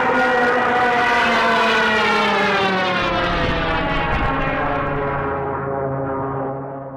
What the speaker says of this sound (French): Mais quel était le sens de ces sirènes sur les Stuka?